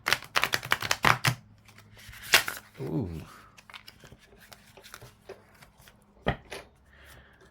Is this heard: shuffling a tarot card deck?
yes